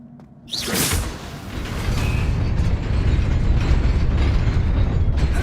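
Incendio fire spell cast in Hogwarts Legacy: a sudden bright burst after a quiet start, then a sustained roaring, crackling blaze that grows louder and holds to the end, with no talking.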